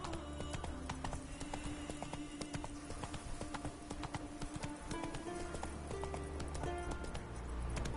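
Roach, the horse from The Witcher 3, gallops in a steady rapid clip-clop of hooves, loud and close, over a dense bed of game ambience and music with no talking.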